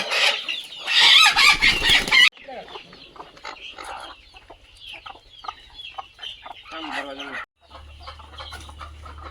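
Chickens cluck loudly and a rooster crows on a free-range desi poultry farm, with busy, overlapping calls that continue over a low hum near the end.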